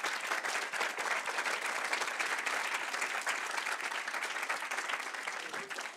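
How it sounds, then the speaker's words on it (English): A large audience at the ETH Paris opening ceremony claps steadily and continuously, dense applause holding at an even level for the whole stretch with no voices standing out. "We should have a round of applause for the sponsors."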